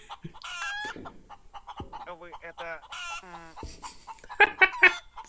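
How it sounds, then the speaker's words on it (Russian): A chicken in the space survival game Breathedge clucks and squawks in several short, bright calls between stretches of someone speaking, with a louder burst of clucking near the end. "Курица. Это вообще что?"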